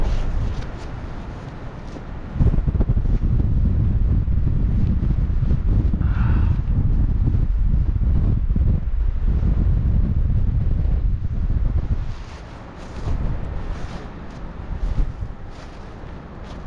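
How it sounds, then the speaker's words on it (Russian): Strong wind buffets the microphone during a paragliding flight over Crimean mountains from Ai-Petri, in a steady, rumbling roar that eases briefly and then picks up again. "Ниже будет еще сильнее ветер."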